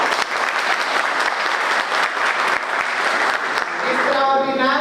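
An audience at a law conference gives a panel of magistrates loud, dense, sustained applause. Near the end a voice begins speaking over the clapping.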